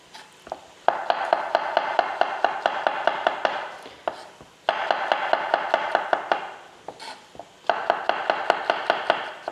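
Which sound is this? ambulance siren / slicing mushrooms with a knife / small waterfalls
slicing mushrooms with a knife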